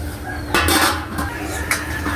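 A lid clatters onto a cooking pot of sardines simmering in oil for ginataang sardinas, a couple of sharp metallic clanks close by over a low kitchen hum.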